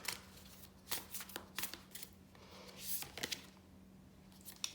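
Oracle cards shuffled and drawn by hand, soft close riffles and slides in irregular bursts, quiet with brief pauses between movements.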